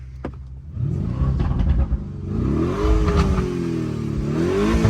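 A Lamborghini Urus SUV accelerates and revs on a neighborhood street, its engine note rising and falling in close, loud sweeps that build steadily over several seconds without talk.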